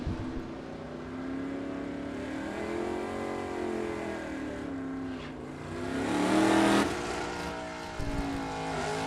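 A 1967 Chevelle and a 1963.5 Ford Galaxie drag racing on a strip roar at full throttle, with rising engine revs and gear-change pitch sweeps that swell louder before a sharp cutoff.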